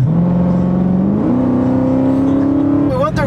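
Straight-piped Dodge Challenger Hellcat accelerating hard, a loud close engine roar climbing steadily in pitch through a gear, ending in a brief higher whine.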